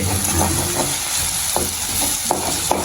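Egg sautéing in a pan for Jaffna-style idiyappam kottu, a steady close sizzle with scraping stirs and occasional spatula knocks against the pan, no talking.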